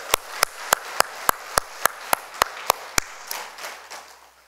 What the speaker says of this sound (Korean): 우리 믿는 뜻으로 우리 박수를 칩시다